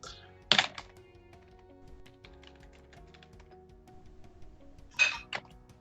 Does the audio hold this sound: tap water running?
no